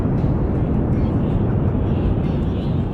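Loud, steady roar of a spacecraft engine burn in Kerbal Space Program, a dense low rumble holding constant for the whole stretch with no voices over it.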